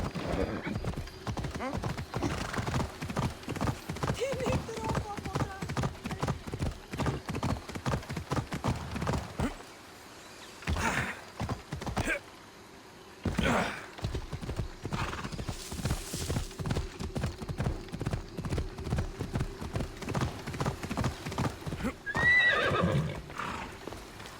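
Steady, rhythmic clip-clop of a horse's hooves at a trot in Assassin's Creed Odyssey, close and continuous, briefly pausing midway with a snort or whinny, under intermittent talk.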